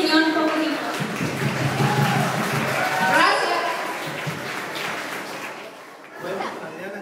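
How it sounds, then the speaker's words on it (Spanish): Guests at a quinceañera clap and chatter in a busy room, steady applause mixed with light laughter and voices, easing off toward the end. "Y un aplauso para Elisa, que fue nuestro instructor"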